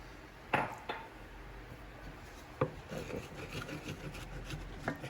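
A spoon scrapes seasoning off the bottom of a skillet after heavy whipping cream goes in, making a few sharp, close scrapes and knocks spread over quiet background.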